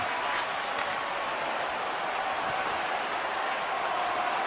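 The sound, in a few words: video game hockey crowd cheering and applauding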